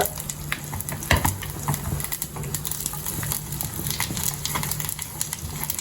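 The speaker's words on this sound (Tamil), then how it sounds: "அதனால ஜீரகம் இது ரெண்டையும் தாளிச்சு கொட்டிட்டு" Cumin seeds and turkey berries tempering in hot oil, a dense continuous sizzle and crackle with scattered sharp pops and stirring scrapes, close and steady throughout with no voices.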